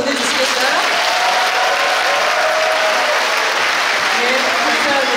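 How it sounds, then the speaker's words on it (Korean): A school audience at an elementary school children's choir festival gives loud, sustained applause with cheering, a dense continuous wash of clapping that holds steady throughout. "여러분께서도 더욱더 큰 박수와 환호로 환영해 주시면 되겠습니다"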